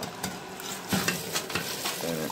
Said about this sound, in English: I'm going to go ahead and put my rice into the boiling water